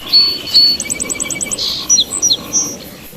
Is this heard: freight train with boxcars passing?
no